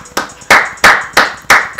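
Hand clapping heard up close as four loud, evenly spaced claps about a third of a second apart, with the start of a fifth at the end.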